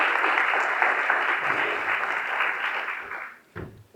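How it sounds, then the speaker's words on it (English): An audience applauds elected officials at a county address, with dense, loud, sustained clapping that fades out near the end and is followed by a brief thump. "Let's give them a round of applause."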